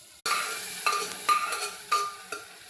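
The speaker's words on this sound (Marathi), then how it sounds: "आता गरगट्यात त्यात टाकलं, फोडणी दिली चांगली मस्त." Spices sizzle as gargata is tempered: a burst of hissing starts abruptly, then spoon or pan clinks tap several times over a fading sizzle.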